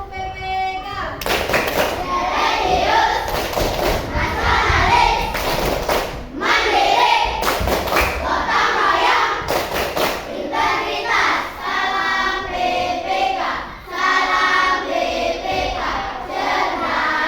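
Children in a classroom perform a rhythmic group clapping chant, bursts of hand claps and thumps alternating with loud chanted voices, close and energetic throughout.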